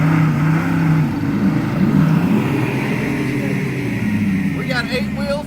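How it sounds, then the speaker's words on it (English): Stuck trucks rev their engines with wheels spinning in mud, a loud, sustained engine roar that rises and dips in pitch, with a voice speaking near the end. "We got 8 wheels a turning."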